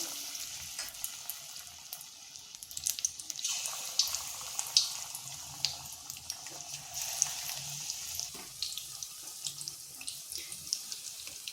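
Semolina pakoras fry in hot oil in a kadai, giving a close, steady bubbling sizzle with scattered sharper crackles and pops, and no voices.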